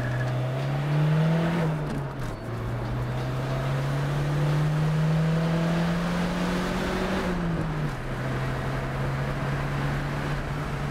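A turbocharged 1989 Dodge Shadow CSX accelerates hard through the gears, its engine tone climbing steadily. It drops briefly at each of two upshifts, then rises again, loud and close from inside the car with no talking.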